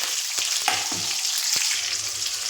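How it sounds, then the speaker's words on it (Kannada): Chopped onions frying in hot oil with mustard seeds and cumin for a radish sambar, a steady bright sizzle throughout with a few sharp spatula scrapes and knocks against the pan, close and alone. "ಈಗ ಚೆನ್ನಾಗಿ ಫ್ರೈ ಮಾಡ್ಕೋಬೇಕು ಈರುಳ್ಳಿ"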